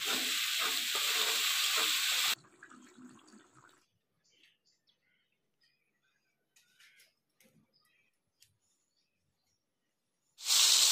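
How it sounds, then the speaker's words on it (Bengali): Brinjal (eggplant) slices fry in a pan with a loud, close sizzle for the first two seconds, then fall to a near-silent stretch with faint crackles before the sizzle surges back at the end. "বেগুন দিয়ে দিল, ভাজা হবে বেগুন।"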